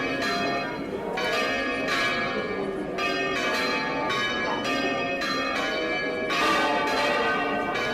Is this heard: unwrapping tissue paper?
no